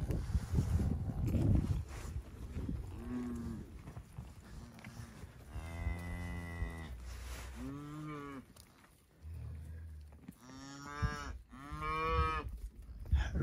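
Cattle moo several times close by in a pasture, including a red brockle-faced cow, with long, low calls spread through the clip among quiet outdoor background.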